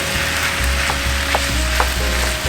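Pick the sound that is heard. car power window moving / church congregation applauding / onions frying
onions frying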